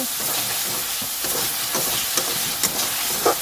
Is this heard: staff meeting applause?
no